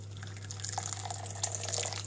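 Water trickling and dripping as it is poured off from an AeroPress coffee maker, a light, steady splashy flow with small drips, fairly faint against a constant low hum.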